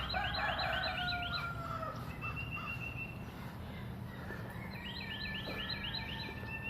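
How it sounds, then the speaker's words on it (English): Two bursts of rooster crowing in the morning, one at the start and another near the end, over a steady outdoor background hum with a few faint bird chirps. "Can't beat the sound of roosters in the morning,"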